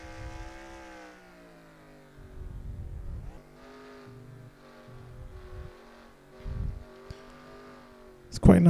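Sustained engine drone of a NASCAR stock car in NASCAR Racing 2003, driven hard on a road course lap in Canada, holding a steady harmonic tone with brief shifts and a louder burst at the end, under intermittent commentary.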